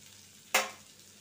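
Potatoes fry in a pan with two bay leaves for a bottle gourd dish, making one brief burst of hot-oil sizzle that quickly fades back to a quiet background.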